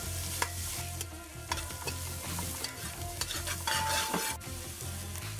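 Garlic, hot pepper and pimento pepper fry in a pot for a Trinidadian curry with paneer, potato and string beans: a continuous close sizzle with spoon scrapes and clinks against the pot breaking through at irregular moments.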